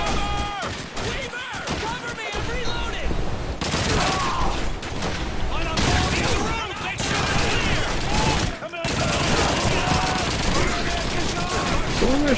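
Gewehr 43 sniper rifle fire in the Call of Duty 2 video game, sharp dense gunshots and battle noise running through the whole stretch with a voice talking over it.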